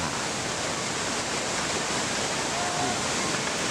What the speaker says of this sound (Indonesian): wisata air terjun 7 Bidadari Tambora